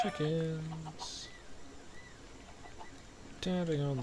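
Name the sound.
chickens clucking in the video game Minecraft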